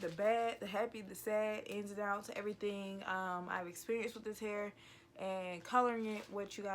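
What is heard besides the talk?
None of the usual background noises is heard.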